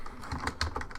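Typing on a computer keyboard, a quick run of several close, crisp key clicks in uneven rhythm.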